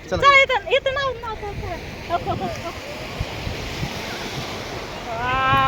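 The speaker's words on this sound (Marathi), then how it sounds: "कसल्या लाटा येतात मस्त" Sea waves break on a shore in a continuous wash of surf with wind buffeting the microphone, while people talk over it at the start and again near the end.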